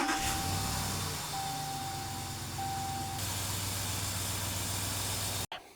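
A RAM 1500 pickup's 5.7 HEMI V8 idles steadily with an engine flush additive in the oil, a constant close hum and hiss that cuts off abruptly near the end.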